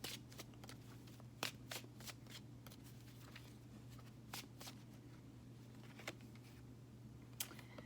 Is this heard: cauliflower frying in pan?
no